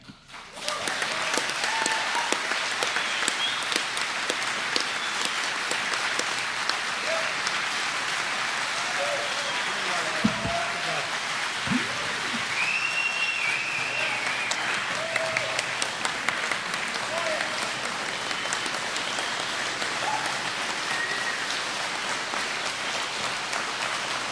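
Sustained crowd applause at a political rally in Canada, a steady dense wash of clapping and cheering heard from within the crowd, holding loud throughout with scattered shouts and brief voices rising above it.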